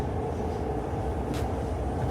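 Inside a passenger train heading to London, a dense, continuous low rumble of wheels and cabin noise runs throughout, with a brief airy hiss in the middle and no talking.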